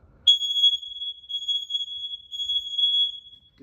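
Newly installed, interconnected smoke alarms sound during a test, giving one sharp, piercing high-pitched tone that holds almost without a break for over three seconds, loud and close, with no talk.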